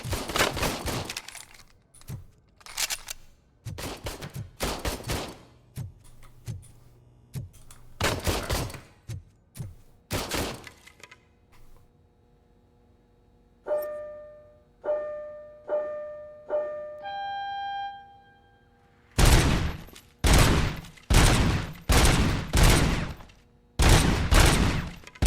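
Weapon fire at a shooting range in RoboCop: Rogue City, bursts of sharp gunshots in clusters, a pause with ringing metallic tones, then a rapid final volley of loud cracks.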